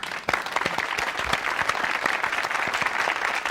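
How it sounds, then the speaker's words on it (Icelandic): An audience applauds a surgeon's introduction on a New Year's comedy show, with steady, dense clapping throughout and distinct individual claps standing out. "Við skulum gefa honum gott klapp"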